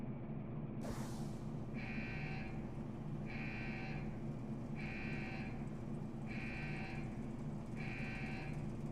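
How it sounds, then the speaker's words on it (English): Repeating electronic alarm tone from the Deus Ex video game, five evenly spaced beeping pulses over a steady low hum of game ambience, with no talk. "Just waiting patiently for the alarm state to end."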